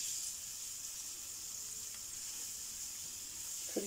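Garlic fries in olive oil in a pan with a faint, steady hiss and crackle, quiet and unbroken, with no voice over it.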